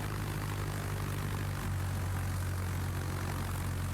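Steady droning propeller engine of a carrier plane flying in World of Warships, a constant loud hum with a low tone that shifts pitch partway through, no voices.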